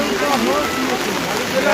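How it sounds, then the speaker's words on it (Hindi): Heavy rain pours at the crowded Narsinghnath Mela temple fair, a steady, dense hiss with people's voices talking over it close by. "देखिए बारिश काफ़ी तेज़ हो चुकी है और लोग जो हैं भीगते भीगते जा रहे हैं।"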